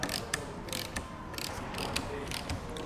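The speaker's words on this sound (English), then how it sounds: "you just want to get them 2 little T10 Torx screws undone" Ratcheting clicks from a driver undoing two small T10 Torx screws on a Porsche 992 GT3, rapid repeated mechanical ticks close by in bursts, with no talking.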